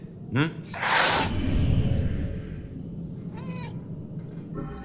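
A cat in Murdered: Soul Suspect meows twice, a short cry near the start and another later, with a breathy hiss between them over a low steady background.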